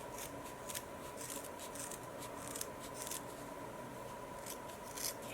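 Scissors make repeated crisp snips as they trim a braided pumpkin stem, a run of close, quiet cuts over a faint steady background hum with no talk.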